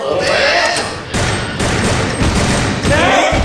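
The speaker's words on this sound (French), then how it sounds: "C'est quoi ces coups de feu?" Dense, continuous gunfire booms and cracks in a loud, chaotic barrage, with shouting voices mixed into the din.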